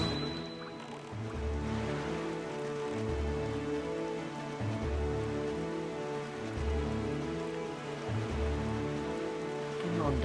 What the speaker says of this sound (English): Can we just have like a nice night where it doesn't rain?